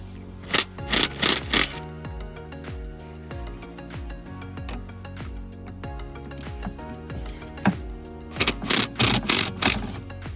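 A ratchet works 7 or 8 millimetre ground bolts loose on a BMW engine during a rocker cover gasket job, with rapid clicking bursts at the start and end and slower single clicks between.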